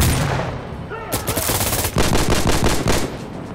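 Rapid automatic gunfire from a weapon in the video game Insurgency Sandstorm, loud and close, with dense bursts of shots filling most of the clip and a brief pause before heavier firing resumes.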